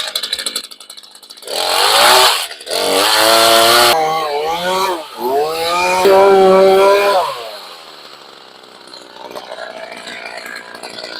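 A chainsaw with a loose, dull chain revving in loud bursts, rising and falling in pitch several times before dropping back to a rough idle.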